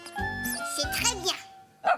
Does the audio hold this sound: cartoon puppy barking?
yes